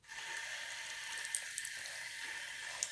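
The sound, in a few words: hose water running in a bathroom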